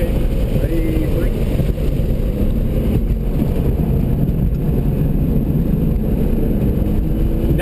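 A BMW on a race track during a driver-education session, its engine droning loud and constant from inside the cabin, mixed with heavy wind and road roar, while people talk over it.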